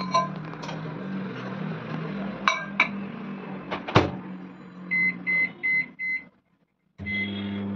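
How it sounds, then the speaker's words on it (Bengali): A microwave oven hums steadily with clinks of dishes, then several short beeps as it finishes; the door clunks and the hum resumes. "এবারে মাইক্রোওভেনে 3 থেকে 4 মিনিট দিয়ে দেবো।"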